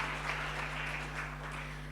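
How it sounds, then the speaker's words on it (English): Evening audience at a nutrition talk applauds in a steady, moderately loud wash of clapping over a constant low electrical hum, no voices on top. "Can we have one more round of applause?"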